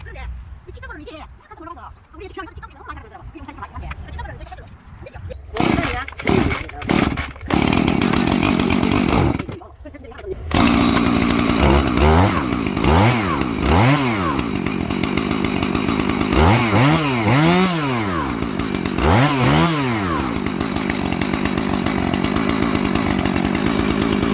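Husqvarna 4-series and Stihl MS230 chainsaws idle with a rough rattle and then rev up again and again, each loud, close whine rising and falling, with some talking mixed in early.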